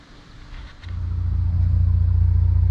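A 2015 Lexus RC350 fitted with an aftermarket exhaust is revved: a quiet idle swells at about one second into a loud, deep, throbbing roar that holds steady and close until the end.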